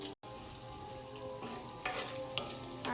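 Bacon frying in a pan, a steady close sizzle with dense crackling and a few sharper pops, running almost without a break and with no talking.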